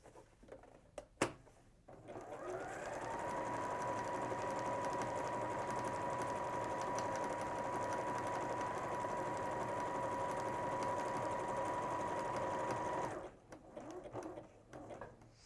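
A sewing machine runs steadily, stitching a zigzag for about eleven seconds with an even mechanical whir, bracketed by faint handling clicks and quiet room sound before and after.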